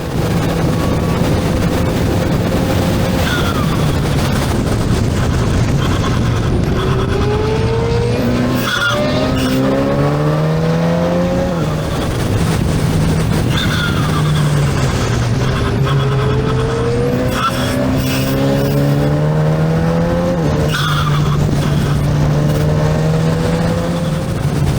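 A race car in a racing video game runs a lap, its engine whining up through the gears in repeated rising sweeps with shifts between and tire squeal, loud and constant throughout.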